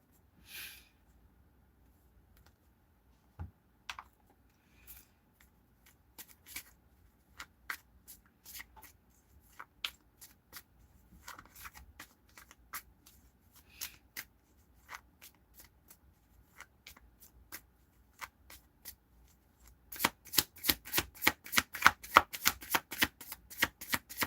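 Tarot cards being shuffled by hand, soft scattered riffles and taps at first, then a faster, louder burst of rapid shuffling near the end, close and quiet with no talk.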